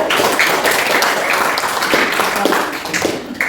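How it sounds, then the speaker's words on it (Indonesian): Students in a classroom clap for a presenting group, a short burst of scattered applause at close range with a few sharper individual claps. "beri tepuk tangan buat kelompok 3"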